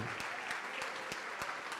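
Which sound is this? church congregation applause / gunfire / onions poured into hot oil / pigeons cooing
church congregation applause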